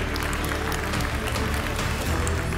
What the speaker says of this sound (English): We can applaud, absolutely.